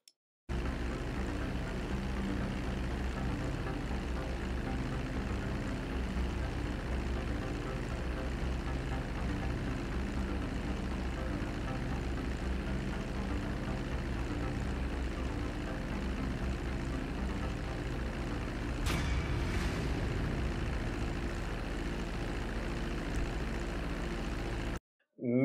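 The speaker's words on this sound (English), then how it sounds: "So let's get on with the finishing of this mission, where Trevor lands and mission is complete." A propeller plane in the GTA 5 video game flying in to land, a steady loud engine drone with a brief sharp whoosh near the end before it cuts off.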